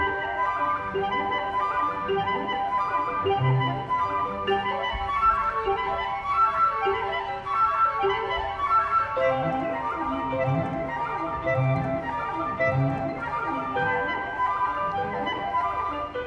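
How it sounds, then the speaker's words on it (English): Orchestral music meant to evoke the wheels of a rolling coach carries on for about 16 seconds, with layered sustained tones and repeating low pulses. "It's the sound of wheels."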